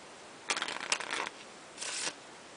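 Playing cards are riffled in quick, crisp bursts, a couple of short shuffles close up, separated by a brief pause.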